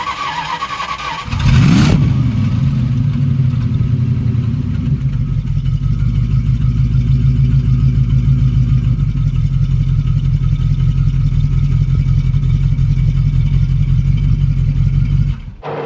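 A Jensen Interceptor MK1 engine revs hard from idle to a loud, sustained roar, heard up close from behind the car, with no talking.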